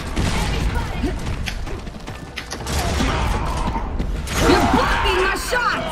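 Gunfire in the shooter game Gears of War: Judgment during a team deathmatch on the Boneyard map, with a steady stream of mechanical clatter and shots running under a voice throughout.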